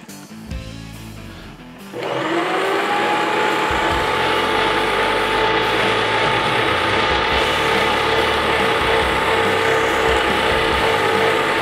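A sausage stuffing machine being primed with deer meat starts up and then runs as a steady, loud mechanical grinding whir with a ratcheting rattle, continuous and close, with no talking.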